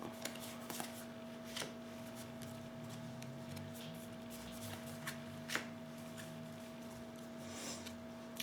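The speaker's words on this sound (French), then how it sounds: "je vais déjà tirer 4 cartes pour voir quelles sont les énergies pour ce mois." Tarot cards shuffled and drawn by hand, soft continuous riffling and sliding with a few sharper card snaps, quiet and close over a faint steady electrical hum, with no speech.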